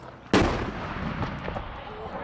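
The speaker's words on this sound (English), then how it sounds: "The Afghan army soldiers on base also fire their D-30 cannon. That's loud." A D-30 cannon fired by Afghan army soldiers on a base in the Pech Valley goes off once as a sharp, loud boom, followed by a rolling echo that fades under background noise.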